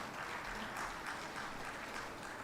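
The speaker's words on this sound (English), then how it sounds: "So please give a big round of applause it is for everyone." Sustained round of applause from a conference audience at a transformer care event, steady dense clapping throughout at moderate level with no talk over it.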